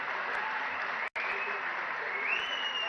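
An audience at a political gathering in Telangana applauds, producing a steady wash of clapping that carries on evenly with a brief break partway through.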